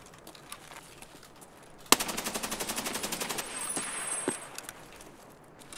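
Rapid automatic gunfire in Escape from Tarkov, a sudden burst of evenly spaced shots lasting about two seconds, loud and fairly close, followed by a few scattered single shots as it fades into quiet ambience.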